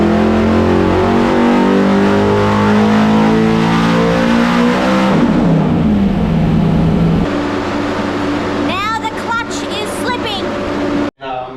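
A Holden VK VL Nascar V8 engine running all 8 cylinders on a dyno, a loud sustained harmonic roar that climbs in pitch, then eases off into a lower rumble before cutting out abruptly, with a voice briefly over the end.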